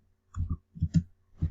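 Computer mouse clicking while working in Inkscape: a few quiet, close clicks in small clusters, with no talking.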